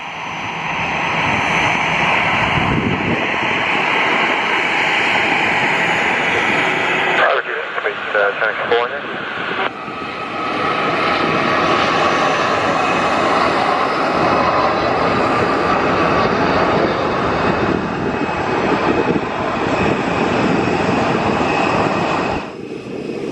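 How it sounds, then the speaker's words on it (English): A Wizz Air Airbus A321neo jet takes off from Luton Airport, a loud sustained engine roar running nearly the whole time, briefly interrupted by a short burst of radio-like chatter and people talking over it. "here we go with the Wizz Air Airbus A321neo off to Belgrade"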